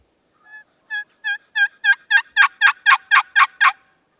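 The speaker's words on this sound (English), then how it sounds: "He's gobbling every breath." A wild turkey gobbles during a spring turkey hunt: a run of about a dozen rapid, rattling gobble notes that start soft and quickly grow loud and close, with no voices over them.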